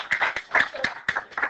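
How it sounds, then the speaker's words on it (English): Students in a classroom give a short burst of applause for a classmate, a few hands clapping in uneven clusters at moderate loudness with no talk over it. "Everybody give Sid a round of applause."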